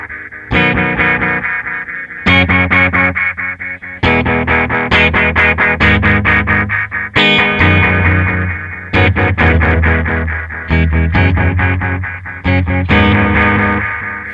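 Guitar through a Red Witch Titan delay pedal with two delays running in series, notes blooming into dense repeating echoes that pile up into a loud, continuous wash over about fourteen seconds.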